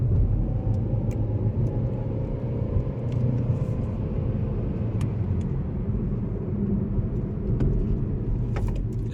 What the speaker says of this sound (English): you're gonna hear some noise from the CVT since it doesn't have any gear to shift.